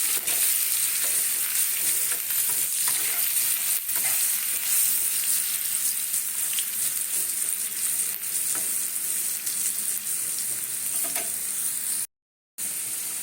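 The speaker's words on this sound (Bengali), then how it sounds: "দেখো আলুটাকে আমি সুন্দর করে ভেজে নিয়েছি" Potato pieces with salt fry in a pan, giving a steady, close sizzle with soft stirring scrapes throughout, ending in a brief silence.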